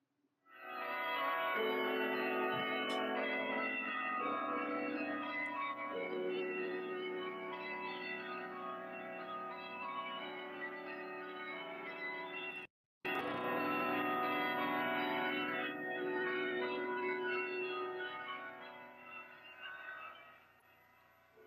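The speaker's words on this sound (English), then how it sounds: "Those bells are saying joy to the world." Church bells ring at the National Cathedral in Washington, D.C., a dense, sustained peal of overlapping tones that rings loud and steady for about twenty seconds, broken by one brief cut.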